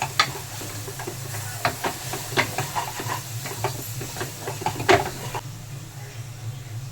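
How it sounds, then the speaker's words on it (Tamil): Spiced onion-tomato masala with coriander powder and home-ground chilli powder sautéing in a pan for egg curry, a steady low sizzle with scattered stirring clicks and scrapes throughout. "இதை நல்லா வதக்கிக்கலாம்"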